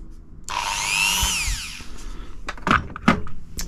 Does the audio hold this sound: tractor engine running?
no